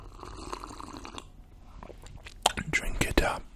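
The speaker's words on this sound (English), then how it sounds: "just listen to the sound of the tea" Close, intimate slurping and sipping of tea, soft wet sucks and swallows that grow louder toward the end, with quiet breathy murmuring in the first part.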